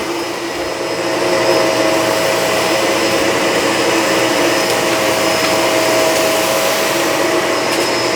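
Shark Rotator Pet Lift-Away upright vacuum cleaner running steadily, a loud, close, even motor whine and airflow roar that swells up in the first second and then holds constant with no voices.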